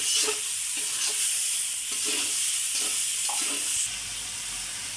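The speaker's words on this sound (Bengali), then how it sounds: "এই যে একটু কাঁচা জিরা বাটা দিয়ে দিলাম যেহেতু শিঙ্গি মাছ এটাকে ভালো করে কষিয়ে নিতে হবে" Cumin paste and singhi fish fry in a pan, giving a steady close sizzle and hiss broken by rhythmic scrapes of stirring, with no talking.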